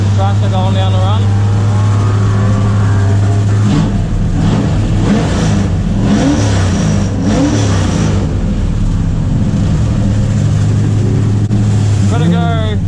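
A loud Ford XF Falcon race car engine drones close by during a drag run at a motorsport meeting, a steady low rumble with surges of revving over the middle stretch and a constant throaty hum throughout.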